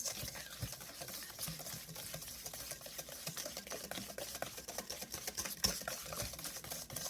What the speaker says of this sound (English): we're gonna whisk these eggs and the sugar substitute together